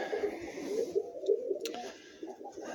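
A sick breeding pigeon hen coos repeatedly in a rhythmic series of soft, low pulses at close range, with a brief sharp click partway through and no talking.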